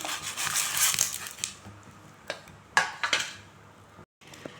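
Dry wheat shell pasta tumbles into a pot of boiling water, giving a few light clattering splashes close by with no talking.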